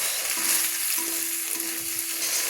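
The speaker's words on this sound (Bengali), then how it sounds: "লো করেই কিন্তু আমি পোস্ত দিয়ে আলু পেঁয়াজ কলিগুলো আমি ভেজে নিচ্ছি" Potatoes and onion stalks with poppy seeds frying over a low flame, a steady soft sizzle with occasional stirring scrapes, close and continuous, with no talking.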